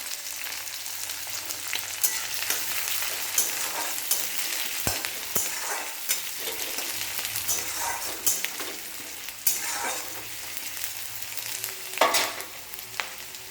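Hot oil in a wok crackles and hisses continuously as broken chili and onion fry, with intermittent metallic stirring scrapes and clinks of the spatula against the pan, close and unaccompanied by speech.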